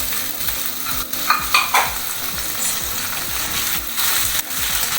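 Curry leaves, chopped tomatoes and green chillies crackle and sizzle in a hot pan for a bhindi tomato fry, with repeated rhythmic spatula scrapes over a continuous frying hiss.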